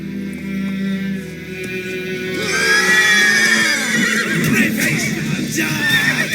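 A horse in The Witcher 3 gives a loud, drawn-out whinny with shaky rising and falling pitch, starting after a couple of seconds and carrying on over low game ambience and music.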